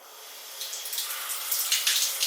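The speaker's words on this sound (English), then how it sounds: "is this the butt washer?" Water spraying steadily from a Japanese toilet bidet nozzle in Okinawa, a close hissing jet that builds from soft to louder with slight surging pulses, with no talking over it.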